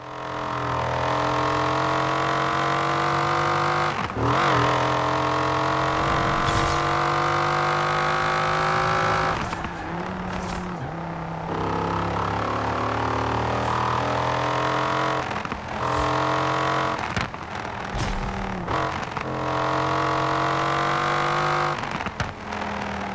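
A Dodge Viper ACR V10 engine in a Forza racing game roars continuously, revving up and down through gear changes, loud and steady with a synthetic, game-like quality.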